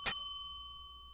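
A timing bell at a student debate competition rings once sharply and clearly near the start, then its tone lingers and fades away.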